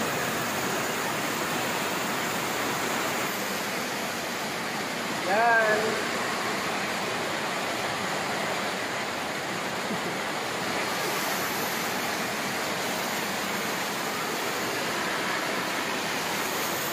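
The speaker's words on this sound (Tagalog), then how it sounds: "Lakas yung ulan." Heavy rain pours in a steady, dense roar throughout, with a brief spoken word partway through.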